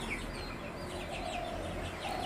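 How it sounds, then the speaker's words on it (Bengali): Tiger-breed chicken chicks at a village market in Manda, Naogaon, give faint, high, repeated peeps over a dense background murmur. "অরিজিনাল টাইগার মুরগির বাচ্চাগুলো"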